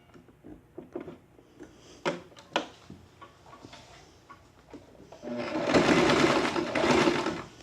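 An electric sewing machine stitches the front and back neck of a draped jacket, starting with a few short clicks and bursts before settling into a loud continuous whirring run.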